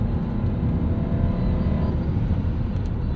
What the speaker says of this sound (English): It's a nice throaty V8 sound.